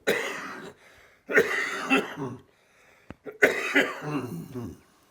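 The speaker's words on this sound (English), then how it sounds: "I'm gonna have to cough once in a while." Three bursts of harsh, raspy coughing, each a cluster of hacks separated by short pauses, close to the microphone and fairly loud.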